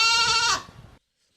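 A recording of a goat played on a radio show gives one loud, close, drawn-out bleat with a buzzy, harmonic tone that trails off abruptly into silence.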